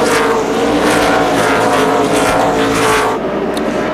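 NASCAR stock cars at the 2004 Subway 500 race roar past in a loud, dense wall of engine noise, with overlapping broadband whooshes swelling and fading as the pack passes close by, thinning out slightly near the end.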